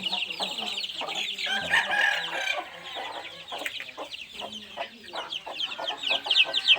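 Young chickens cluck and cheep with busy, overlapping high-pitched calls that continue throughout, close by.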